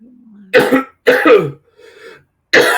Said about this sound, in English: I don't know why I got this cough